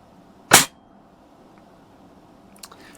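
A single sharp crack from a Daisy 120 pellet rifle fires close by, followed by a faint distant tick of the pellet striking the target in an otherwise quiet outdoor setting.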